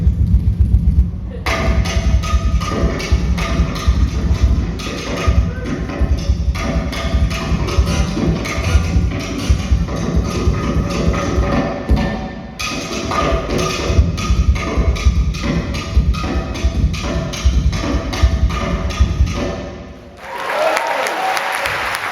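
A guitarist on a live stage as a one-man band, striking and scrubbing a brush across his acoustic guitar in a dense, continuous percussive rhythm, briefly broken near the end.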